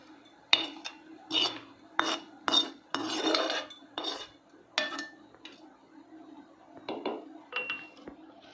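Hot yam flour dough being stirred with a ladle, heard as a series of separate metal scrapes and clinks against the vessel, some sharp and some drawn out, close by in a quiet room with no voices.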